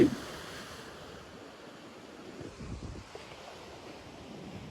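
Ocean surf rolling onto the beach along the Cox's Bazar–Teknaf Marine Drive, a steady low wash of waves with wind buffeting the microphone, moderately loud and continuous with no talking.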